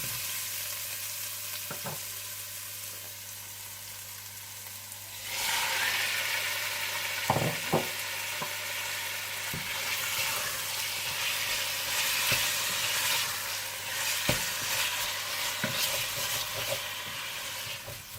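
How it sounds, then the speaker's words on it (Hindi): Marinated chicken sizzles steadily in a hot pan, with the frying growing louder partway through and occasional scraping knocks of stirring, close up and without talk. "आप इसमें मैरिनेट किया हुआ चिकन डालकर अच्छी तरह से भून लीजिए"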